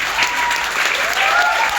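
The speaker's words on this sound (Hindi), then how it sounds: "इनके लिए ताली बजाइए" Audience at a film trailer launch event applauding, a loud, dense, steady clapping from a sizable crowd that carries on without a break.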